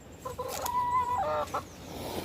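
Hens in a shared urban henhouse give a short burst of close, soft clucks and a few rising calls over a quiet background.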